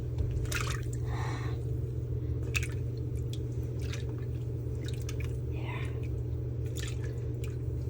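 A couch cushion is pushed down into water, giving wet squishing and dripping sounds in short bursts over a steady low hum, fairly close.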